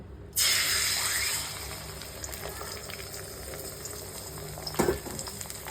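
Egg for an omelette hits hot oil in a heated kadai with a loud burst of sizzling that settles into steady frying crackle, with a brief clatter of a utensil near the end.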